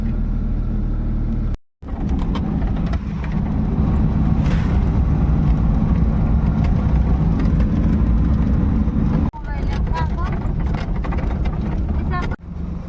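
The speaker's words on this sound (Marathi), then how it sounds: "मी जुनी गाडी घेऊन स्टार्ट केली जाऊया लेबर घेण्यासाठी" An old vehicle's engine runs loud and steady throughout, with a brief cut near the start and another break later, as a rural driver sets off to pick up labourers.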